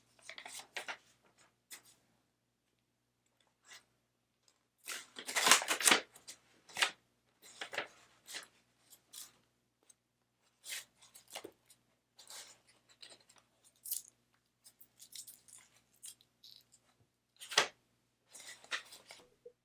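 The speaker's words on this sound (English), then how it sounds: "But when you're taking that paper off, it's pretty easy to accidentally slide it." Sublimation transfer paper is peeled and slid off a hot Unisub board, giving soft scattered papery rustles and scrapes with a denser crinkling burst in the middle, close and fairly quiet, without talk.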